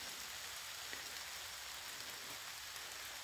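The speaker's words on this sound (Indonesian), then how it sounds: "hujan pun turun ya, tapi tidak terlalu lebat" Light rain falling outdoors beside a drying ditch, a steady soft hiss of drops that holds evenly throughout with no voices.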